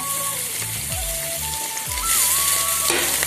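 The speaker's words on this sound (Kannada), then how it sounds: "ಹಾಕಿ ಇದನ್ನು ಚೆನ್ನಾಗಿ ಬಾಡಿಸ್ಬೇಕು." Cooked dal being sautéed in a pan with chili powder, coriander powder and garam masala for a dal-stuffed steamed wheat bowl, a steady close sizzle and frying hiss with occasional stirring scrapes throughout, no talking.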